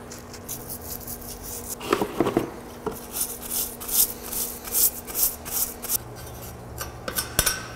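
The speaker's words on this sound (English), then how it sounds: "I'm gonna go to the axle ends and clean those with a little bit of the mineral real spirits." Rag rubbing and wiping the axle ends of a Fairmont differential with mineral spirits, a steady close scrubbing and scraping with repeated strokes and a few sharper scuffs, no talking.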